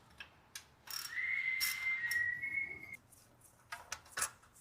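A steady high-pitched whistle from a Fiat 500X starter motor setup, holding for about two seconds mid-clip amid faint workshop ticks and clicks, with no talk over it.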